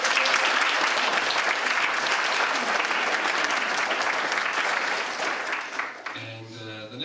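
An audience at a school art show at St. Anne's gives sustained, loud applause for several seconds, fading out near the end, where a short low tone is heard.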